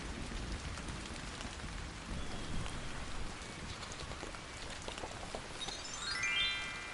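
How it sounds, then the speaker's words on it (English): Steady rain falls on dry earth, a continuous soft hiss of drops pattering on the ground, with faint distant rumbling underneath and no voices. "Raindrops are wetting dry earth."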